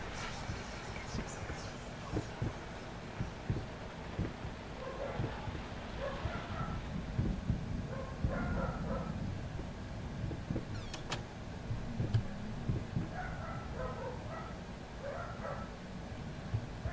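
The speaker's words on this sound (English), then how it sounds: "Sorry guys, about the dogs." Dogs bark and yip in brief scattered bursts, somewhat distant in a room, over steady background noise with occasional clicks and no clear talk.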